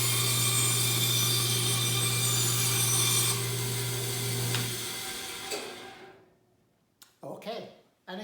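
A bandsaw cuts through a piece of wood with a steady, loud grinding hum, then winds down and fades out, followed by a brief clatter.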